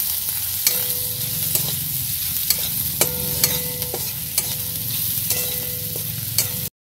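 Onions fry in a pan while being stirred, a steady close sizzle broken by sharp, repeated spatula scrapes and taps against the pan, with no talking.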